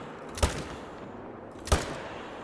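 Two sharp rifle shots fired at a crocodile in the hunting game Call of the Wild, spaced about a second apart, each a loud crack over quiet ambient background.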